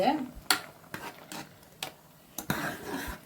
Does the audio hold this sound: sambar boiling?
yes